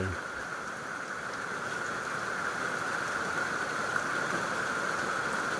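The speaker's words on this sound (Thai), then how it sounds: "ฝนก็มาตกใส่" Rain falls on a rice field during harvest, a steady, dense hiss that stays even and fairly loud throughout, with no voices.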